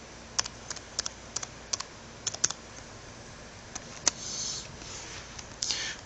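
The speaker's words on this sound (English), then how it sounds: "hold a moment while I type in the admin password" Keys clack on a computer keyboard as an admin password is entered during NAS server setup, a quiet, irregular run of separate taps and short bursts against faint room hiss.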